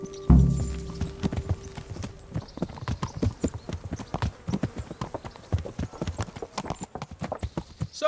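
Horse hooves clip-clop steadily at a walking pace in the medieval game Kingdom Come: Deliverance, close and clear, with a brief snort or whinny near the start and no talk.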